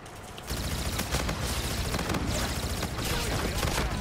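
Dense, rapid automatic gunfire from a Type-2 gun in Call of Duty: Infinite Warfare multiplayer bursts in after a brief quiet start and runs loud and nearly continuous, with overlapping shots and impacts.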